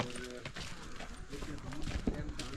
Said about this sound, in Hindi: शाम को वापस आ गई हैं बकरियां